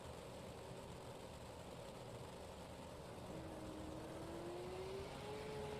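A race car engine idles with a steady, low rumble behind a pace car before a race, with a faint rising whine toward the end; no voices.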